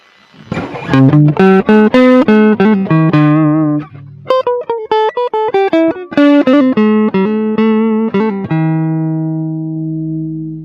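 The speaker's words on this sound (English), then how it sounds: "then the overdrive sounds like this" Electric guitar with overdrive plays a quick run of gritty, sustained notes, pauses briefly, continues, then rings out on a long held note.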